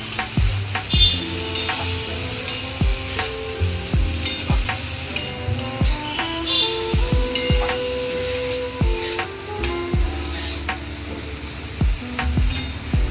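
Bitter gourd and fish roe frying in a pan with coriander leaves, a continuous close sizzle broken by repeated scraping and clinking stirs of a spatula.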